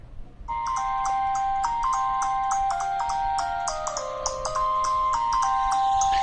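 A bright melodic ringtone plays through the single bottom-firing speaker of an LG G7 ThinQ smartphone, a quick tinkling tune of repeated notes looping steadily over a faint background hum.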